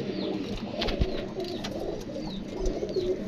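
Pigeons kept by a pigeon fancier coo in low, repeated soft calls against a light background hum, with a few faint higher chirps and a couple of brief thumps.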